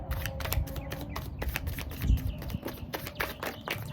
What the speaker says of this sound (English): I'm having a hard time shuffling today.